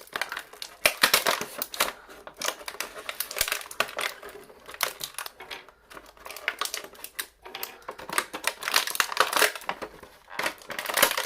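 A Transformers Cyberverse Megatron toy is popped out of its plastic packaging with crackling, crinkling plastic, irregular snaps and rustles close by over several seconds, with brief quiet gaps.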